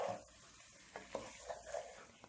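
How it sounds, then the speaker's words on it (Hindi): Biryani masala with ginger paste fries in a pan, a faint sizzle broken by a few soft spoon scrapes as it is stirred, quiet and close. "अदरक का पेस्ट डालने के बाद फिर से भून लेते हैं।"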